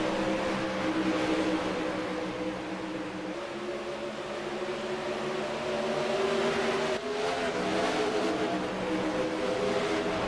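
Super sprint race cars run nose to tail around a racetrack, a loud continuous engine drone with overlapping revs and pitch shifts as the pack passes, steady throughout with no voices.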